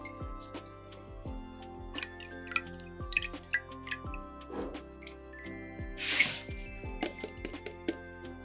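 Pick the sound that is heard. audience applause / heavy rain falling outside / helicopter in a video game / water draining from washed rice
water draining from washed rice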